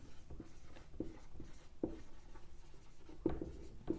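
Chalk or marker writing on a board during a chemistry lecture, steady scratchy strokes with occasional sharper taps, close and continuous, no talking over it.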